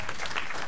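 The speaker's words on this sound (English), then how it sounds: "Round of applause." A board meeting audience applauds in a brief, dense burst of clapping that stays even and moderately loud throughout, with no clear talking.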